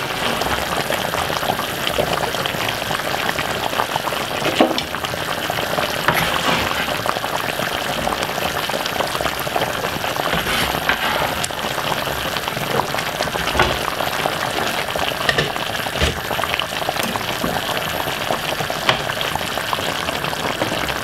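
Jamaican stew chicken with peppers, carrot and potato bubbles and simmers in a pot, a steady soft crackle of boiling liquid with occasional pops, close by and without talk.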